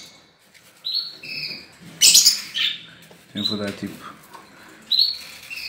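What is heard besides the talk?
lovebirds chirping at feeding time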